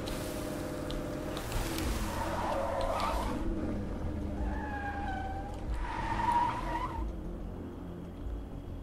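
Car in State of Decay 2 pulling away, engine revving and rising in pitch with skidding tire squeals in two bursts, fairly loud and close, no voices.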